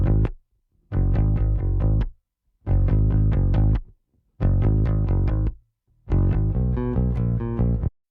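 Clean direct-input bass guitar for a track, playing five short bursts of repeated notes with brief silences between them. It is dry and upfront, with no voices.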